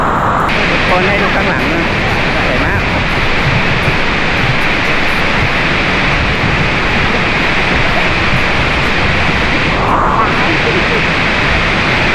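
A waterfall roars steadily near the bottom of its falls at Sangkhla Buri, Thailand, a dense broadband rush of falling water that holds even and loud throughout with no break.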